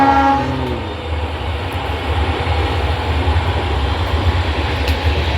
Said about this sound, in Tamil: இந்த ட்ரெயின் சத்தம் கேட்குது இல்லையா